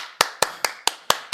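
One person claps six times at an even, moderate pace, each clap sharp, close and loud, with quiet between the claps and no voices.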